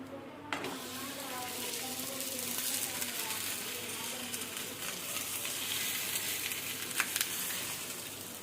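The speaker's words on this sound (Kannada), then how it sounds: "ಸ್ಟವ್ ಆನ್ ಮಾಡಿ ಪೆನದ ಮೇಲೆ ಲಿಟಲ್ ಬಿಟ್ ಆಫ್ ಆಯಿಲ್ ಹಾಕಬೇಕು. ಅಂಡ್ ನಾವು ಹಂಗೆ ನಾವು ಮಾಡ್ಕೊಂಡಿದ್ದು ಕೊಬ್ಬರಿ ಹೋಳಿಗೆನ ಅದ್ರ ಮೇಲೆ ಹಾಕಬೇಕು." Dry coconut holige fries in a little oil on a hot pan, giving a continuous crackling sizzle that stays close and even, with a few sharp clicks of utensil contact.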